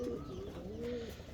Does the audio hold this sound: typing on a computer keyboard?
no